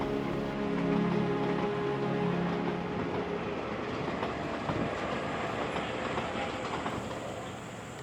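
The Desert Express private train runs along the edge of the Kalahari Desert in Namibia, a faint, steady rumble and rattle of rail cars rolling on the track, heard continuously with no talk.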